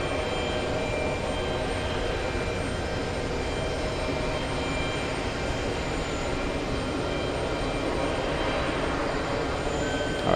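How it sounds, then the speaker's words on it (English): A Delta Airbus A330-300 on its takeoff roll at JFK produces a continuous, even jet roar with a faint whine above it, moderately distant and holding steady for the whole stretch, with no voices. "We have a Delta flight, Delta's 126, flying to Madrid, Spain, an Airbus A330-300"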